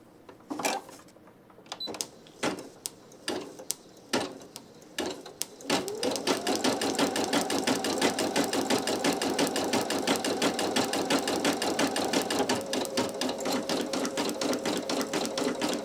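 A Brother PE800 embroidery machine makes a series of separate clicks, then settles into fast, even, close stitching as it sews a satin stitch on a towel.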